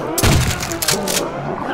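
A trench gun in the Nacht map of Call of Duty zombies fires two loud, booming shotgun blasts about half a second apart, each trailing off in a short echoing decay.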